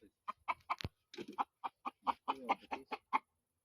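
A newly bought, rather wild rooster clucks in a quick series of about a dozen short, close, loud calls with brief pauses between them, and no other sound alongside.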